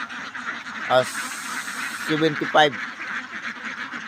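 Ducks on a duck farm quacking, two loud nasal calls standing out close by over a constant murmur of the flock, while someone talks throughout.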